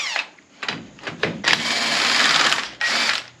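Compressed air is pumped into Crown Vic wheel tires in a shop, coming in several short hissing bursts and then a longer sustained blast, close and fairly loud, with pauses between.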